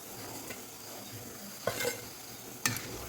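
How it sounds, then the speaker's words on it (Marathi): Onion and potato bhaji fry in hot oil with a close, continuous sizzle. Two sharp scrapes from a utensil stirring in the pan cut through it, and no one speaks. "भजी तळताना आपण एकदाच नाही तळून घ्यायची"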